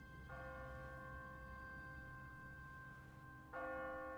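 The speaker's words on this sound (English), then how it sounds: "What kind of church bell goes off at 20 past the hour?" A church bell rings in The Walking Dead video game, a sustained tonal peal that swells at the start and is struck again near the end, fairly quiet and heard alone with no talk.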